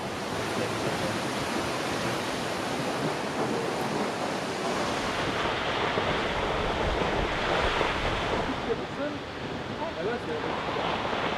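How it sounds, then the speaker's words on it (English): Water from a Yosemite waterfall crashes against rocks below, a steady, broad roar of rushing water, fairly distant and unbroken, with a breeze in the background. "we listened to the water crashing against the rocks below"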